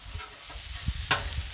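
Buns heat on a Blackstone griddle with a soft, steady sizzle and faint crackling, low in level with no voices.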